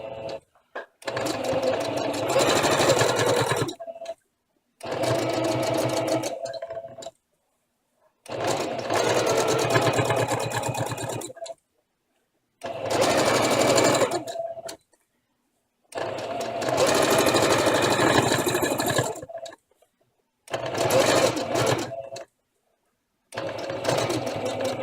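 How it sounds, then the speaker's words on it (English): A sewing machine stitching around a handmade embellished ribbon runs in loud, close bursts of a few seconds each, separated by short pauses where the machine stops. "I'm just going to stitch around it."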